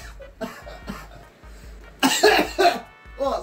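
Close coughing fit after accidentally inhaling table salt during a taste test, starting with softer coughs and breath sounds before three loud, harsh coughs in quick succession and a final weaker one.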